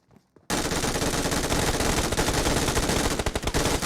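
Automatic gunfire in a shooting video game with a drop weapon, a sudden, loud, continuous burst of rapid shots after a brief quiet start, dense and unbroken to the end.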